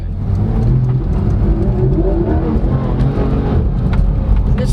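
A 2016 Porsche 911 GT3 RS (991.1) engine roars loudly on the road, heard from inside the car. The steady, rich drone swells as it revs under kick-down acceleration.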